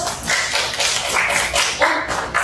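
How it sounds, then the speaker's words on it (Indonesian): Audience applause in a classroom lecture setting: a close, steady patter of many hands clapping together, loud and unbroken for a couple of seconds. "Kita berikan aplaus dulu"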